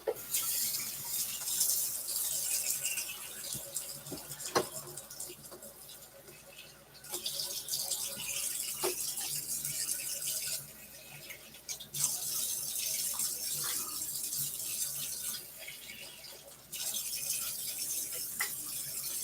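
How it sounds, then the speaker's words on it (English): Tap water running into a pan or sink during meal prep of chicken breast in a home kitchen, a steady hiss that stops and restarts several times over the stretch, with occasional clinks and no talking. "So I'm going to put a little bit of water in there."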